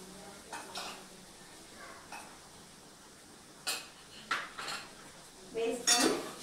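A spoon mixes chili powder into a dosakaya curry, giving a few sharp metallic clinks and scrapes against the pot, spaced out and growing louder toward the end over quiet background.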